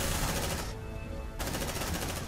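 Rapid, dense automatic gunfire rattles continuously while marines shoot at facehuggers in the sci-fi game Aliens: Dark Descent, loud and relentless with a brief dip in the high crackle midway.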